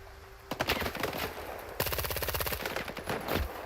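Rapid automatic gunfire in S.T.A.L.K.E.R. 2, bursts of loud close shots in quick rhythm, a short burst then a longer sustained string of rounds, no talk over it.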